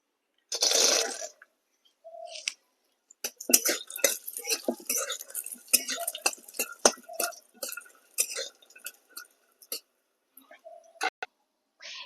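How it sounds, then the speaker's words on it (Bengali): Peanuts frying and being stirred in a pan while cooking chire bhaja, heard as scattered clicks, scrapes and clinks of a spatula against the pan, close and intermittent, with a few short bursts between quiet gaps. "এবার আমি বাদামগুলোকে ভেজে নেবো"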